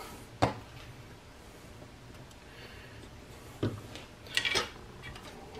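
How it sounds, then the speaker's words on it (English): A few sharp clicks and scrapes of a tool stirring two-part epoxy from a hardware store, mixed in equal parts to repair a stripped wood screw hole, with quiet gaps between the taps. "Mix it up real good."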